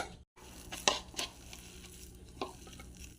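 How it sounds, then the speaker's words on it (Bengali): Egg pakora batter of gram flour, chili powder, cumin powder and salt being mixed by hand in a bowl, giving a few soft, close squelching and scraping sounds with quiet pauses between them. "বেসনটা দিয়ে মাখিয়ে নেব"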